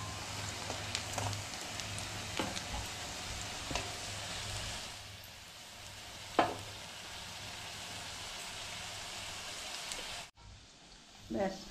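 Muri bora, puffed rice fritters, frying in a pan of oil, a steady close sizzle with occasional spatters and stirring clinks throughout, and the sizzle drops away abruptly near the end.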